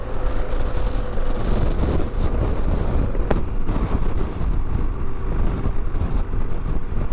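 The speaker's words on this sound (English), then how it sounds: "Man, it's windy out here." Wind buffeting outdoors while riding a BMW R1250GS Adventure motorcycle, a loud continuous roar with low rumble and no pauses, steady for the whole stretch.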